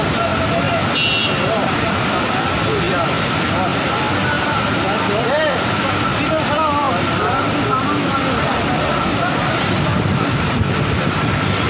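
Floodwater rushing through streets in Bahrain, Swat, a loud continuous roar of churning water filling the whole stretch, with someone talking over it.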